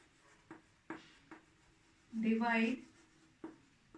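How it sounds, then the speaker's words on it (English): Chalk or marker scratching across a classroom board in a short burst while a mathematics question is written out, fairly quiet, between brief taps and pauses. "I'll write the question here"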